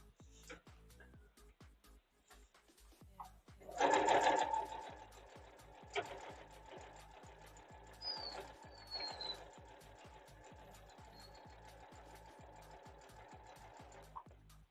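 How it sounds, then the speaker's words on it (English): A sewing machine stitches flange binding on a quilt in a quiet room, its needle ticking in a steady rapid rhythm, with louder bursts of mechanical whir partway through. "Let's go ahead and get this thing sewn down before it changes its mind."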